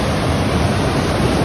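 Clear, cold glacial water from a main river pours into a small pool along Kokanee Creek, a loud, steady, broadband rushing wash with no voices over it.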